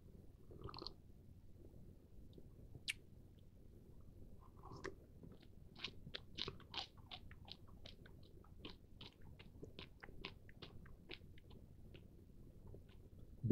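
Quiet, close crunching and biting of Cracker Jack caramel popcorn soaked in Pepsi, with a steady run of crisp chews after a few isolated bites.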